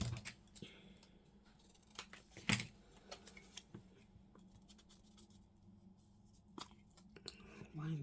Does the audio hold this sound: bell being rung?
no